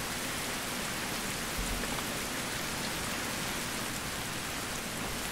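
Steady rain falls in a survival video game, a constant dense hiss of drops that stays even throughout with no voices.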